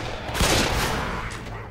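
Rapid gunfire from the video game Left 4 Dead 2 during a mall level, a dense continuous volley of loud shots with booming low end, filling the whole stretch without pause.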